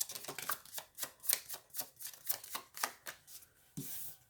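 A deck of tarot cards is shuffled by hand in a quiet room, giving a rapid series of soft papery riffles and flicks in irregular bursts, close up with no one talking.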